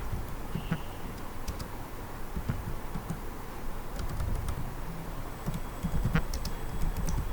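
Fingers type a command on a computer keyboard, a steady run of close, light key clicks with a few louder taps, continuing for several seconds with no voice.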